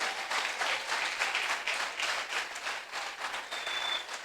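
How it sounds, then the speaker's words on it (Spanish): A church congregation applauds during a sermon, a dense, even wash of many hands clapping at a moderate, somewhat distant level, sustained without pause and no voice above it. "Dale un aplauso por eso"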